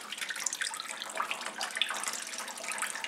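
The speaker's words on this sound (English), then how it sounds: "There is water flowing down here" Water pumped through a portable 12V DC solar air cooler, trickling and splashing steadily down the cooling pads at close range, a soft continuous flow with small irregular spatters.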